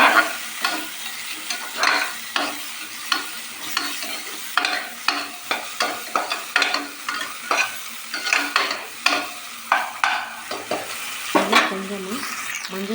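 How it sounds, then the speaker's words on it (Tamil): Tomato being sautéed in a pan for a Tamil-style country chicken curry, with a steady sizzle and repeated spoon-stirring scrapes and clinks at a close, moderate level, no talk. "மீடியம் சைஸ் தக்காளி அதை ஆட் பண்ணிவிட்டு நல்லா வதக்கிக்கிறேன்"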